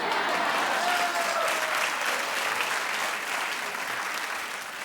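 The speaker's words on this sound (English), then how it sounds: "They don't even care. Lackluster applause." Daytime talk show studio audience applauds: a dense, even wash of clapping, loud and continuous, fading slightly toward the end with no voices on top.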